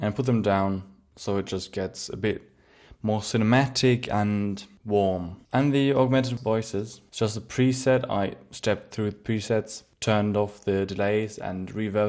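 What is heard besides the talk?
No everyday noises stand out.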